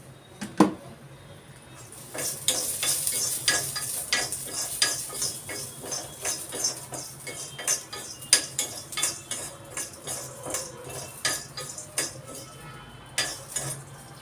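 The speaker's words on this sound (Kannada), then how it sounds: "ಈಗ ಎಳ್ಳು ಮತ್ತು ಜೀರಿಗೆಯನ್ನು ಸೇರಿಸ್ಕೊಂಡಿದ್ದೀನಿ. ಎಳ್ಳು ಪಟಪಟ ಅನ್ನತ್ತೆ" Sesame seeds and cumin roast in a pan, crackling and popping with sharp irregular snaps and sizzle, mixed with a utensil scraping and clinking against the pan, close by.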